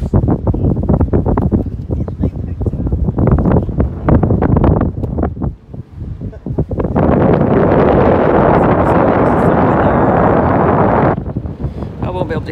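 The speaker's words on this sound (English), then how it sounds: "I won't be able to hear me with all this wind." Strong wind buffets the microphone on the open deck of the Royal Caribbean cruise ship Liberty of the Seas, a loud rumbling roar that swells into a steady blast midway, with a voice talking through the gusts.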